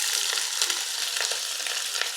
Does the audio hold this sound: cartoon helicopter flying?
no